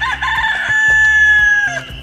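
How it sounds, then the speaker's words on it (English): A white rooster crows once on a small farm during spring planting, loud and close, one long sustained call lasting about two seconds with a short clucking tail. "He's probably our best rooster."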